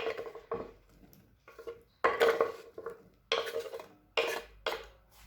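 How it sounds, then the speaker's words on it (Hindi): Three eggs whisked in a bowl, heard as several quick bursts of clinking, scraping strokes separated by short pauses, fairly close and with no talk. "एक बोल में 3 अंडे लेंगे, इसी तरीके से इन्हें बीट कर लेंगे"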